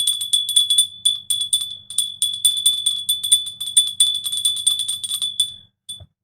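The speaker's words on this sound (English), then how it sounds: "but we do have a bell" A small bell rings loudly and rapidly on a live stream, its bright metallic tone rattling in a continuous burst for several seconds before stopping abruptly, with no talking.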